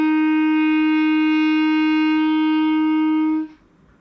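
A clarinet holds a single F with the thumb key pressed, a clear reedy tone that sustains evenly for several seconds and then stops cleanly, leaving quiet room sound.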